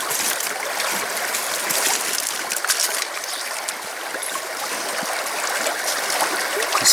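Water in a small stream flows steadily past, a continuous close hiss and trickle with light gurgles, heard alone with no voices.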